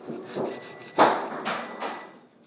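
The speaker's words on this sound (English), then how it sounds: "Lila, can you be quiet with your bone? You just dropping it on purpose?" A dog's bone knocking onto a hard floor, a few separate wooden-sounding thuds and rattles over a couple of seconds, close by and fairly quiet.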